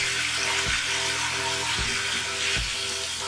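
Spice paste with green chilli and a pinch of salt sautéing in oil for a Bengali small-fish tamarind curry, a steady close sizzle with three dull thumps of stirring spaced about a second apart.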